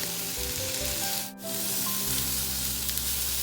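Shrimp frying in oil in a pan give a steady, close hiss of sizzling that runs through the whole stretch. It dips only briefly before surging back, and no one speaks over it.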